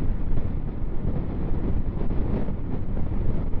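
Strong storm wind roars steadily across a microphone during a solo ride in Scotland, a dense, constant low rumble with no breaks and nothing else audible above it.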